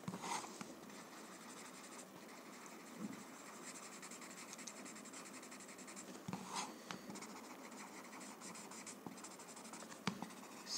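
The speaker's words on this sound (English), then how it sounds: "So graphite shows fine on MDF, so you can always shade it the normal way that you generally do." Graphite pencil shading on an MDF coaster, a soft, close, steady scratching of quick back-and-forth strokes with occasional brief pauses and taps, quiet and without talk.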